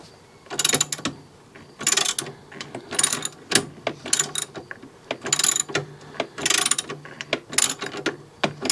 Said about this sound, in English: you could hold it with the Allen key while you ratchet nice and tight